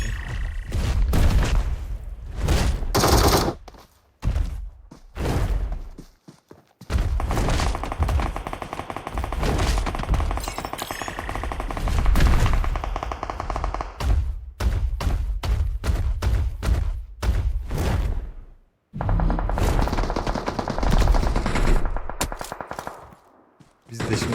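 Gunfire in PUBG Mobile on the Erangel map: repeated bursts of rapid automatic shots and heavy booming blasts, loud and close, separated by short pauses across a long firefight.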